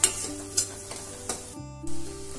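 Kantola, a wild monsoon vegetable, being stirred and sautéed in masala, with quiet sizzling broken by several sharp scrapes and clinks of a spoon against the pan, and no talking.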